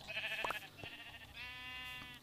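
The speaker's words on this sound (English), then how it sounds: "that's a sheep, not another creeper" A sheep in Minecraft bleats in several drawn-out, wavering calls, moderately close and alone, the last call a long steady bleat.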